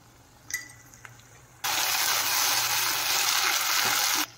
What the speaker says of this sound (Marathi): मसाला व्यवस्थित तेल सुटेपर्यंत त्याला आपल्याला असं परतून घ्यायचं आहे